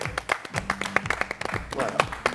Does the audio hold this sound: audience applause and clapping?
yes